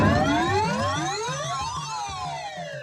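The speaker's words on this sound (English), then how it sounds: "a loud, amazing siren rings out" Loud electronic siren from a Whirlwind pinball machine after a ramp shot, sweeping up and down in repeated wailing glides over a low rhythmic pulse, continuous and close.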